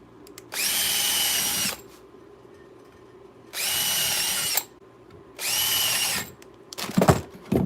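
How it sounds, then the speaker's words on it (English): A power drill bores holes in model layout pieces in three separate bursts of about a second each, loud and close, with short pauses between them and some handling clatter at the end. "let me drill all the holes in them first"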